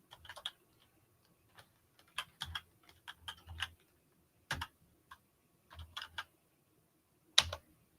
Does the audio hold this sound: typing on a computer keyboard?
yes